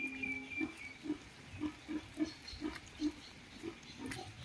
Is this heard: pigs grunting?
yes